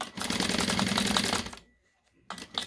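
A sewing machine runs a back stitch at the start of a seam on a surgical wrap face mask: a rapid, steady mechanical stitching rattle for about a second and a half, then a pause before the needle briefly starts again.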